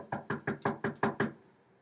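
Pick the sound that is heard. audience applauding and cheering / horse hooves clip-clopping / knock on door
knock on door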